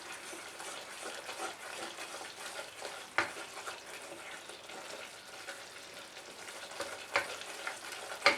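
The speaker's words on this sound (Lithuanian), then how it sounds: "Ir paverdi tuos miltus, paverdi, maišydama paverdi." Flour cooks in a pot while being stirred, a soft steady sizzle with faint scraping and a few sharp clinks of the spoon against the pot, quiet and close with no talking.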